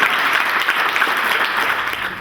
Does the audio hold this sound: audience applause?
yes